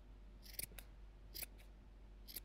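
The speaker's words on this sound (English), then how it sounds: "You just keep trimming that down till it's nice and" Scissors trim stray strands from a yarn pom pom, four or five quick crisp snips close by and fairly quiet over a low steady hum.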